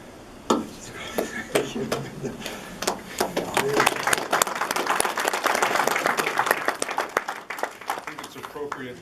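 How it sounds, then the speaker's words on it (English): Applause at a memorial service: a crowd claps in a dense, steady patter that builds to a full, loud peak and then thins out, with some voices mixed in. "I think it's appropriate today to be okay to clap because we got a lot of good musicians here today."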